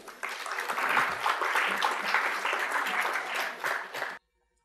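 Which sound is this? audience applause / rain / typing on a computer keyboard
audience applause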